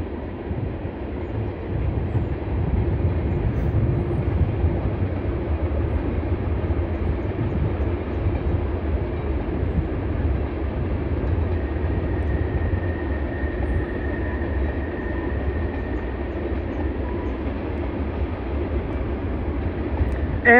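A long Norfolk Southern freight train with refrigerated cars and a rear distributed-power locomotive rumbles steadily past, a continuous low roar with metallic rattling and clatter throughout, fairly close and loud.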